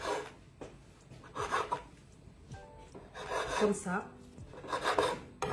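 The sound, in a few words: knife cutting crusts off sandwich bread slice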